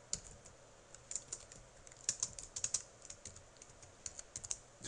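Keystrokes on a computer keyboard while ordering a club running shirt online, a steady run of quick light clicks with small bursts, close and fairly quiet, no talking.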